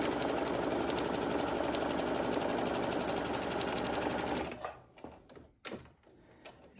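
A sewing machine stitching fabric runs in a fast, steady mechanical whir for about four seconds, then stops, followed by a few soft clicks and fabric handling noises up close, with no talk.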